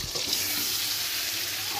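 Spiced meat fries with tomatoes in a pan, a close, continuous sizzle with the scrape and shuffle of stirring running through it.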